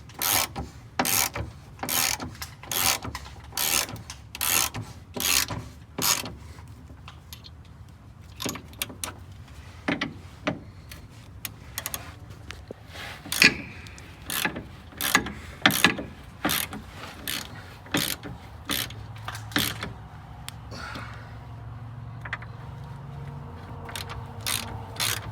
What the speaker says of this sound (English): then you can tighten everything all the way.